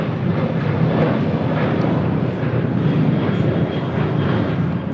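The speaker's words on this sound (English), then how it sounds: "This is Southwest Airlines 1837 taking off to El Paso on a 737-700." A Southwest Airlines Boeing 737-700 taking off from LAX, a loud, steady, dense jet engine roar with strong low rumble, close and unbroken throughout.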